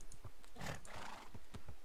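A Minecraft horse gives a short snorting, whinnying burst with a few soft hoof-like thuds around it, close and fairly faint, no speech.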